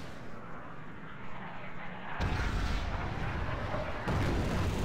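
A bomb dropped from an F-117 Nighthawk explodes in the WarGame Airland Battle video game, with sharp booming blasts and a sustained loud rumble that swell in two jumps.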